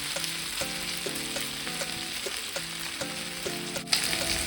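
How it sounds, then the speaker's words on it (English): Pork sizzles steadily in a hot pan, a constant frying hiss with faint background tones and a brief clatter near the end. "I'm going to fry the pork meat until it turns golden brown."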